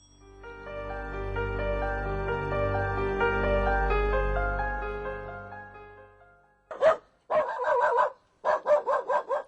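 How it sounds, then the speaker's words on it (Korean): A strange black dog rushes out into a rural home's yard barking, staged as a sound effect in a Korean radio audiobook drama. After a long sustained tone fades out, four loud, close barks follow in quick, uneven bursts. "낯선 검둥개 한 마리가 쫓아나오며 짖어대기 시작했다"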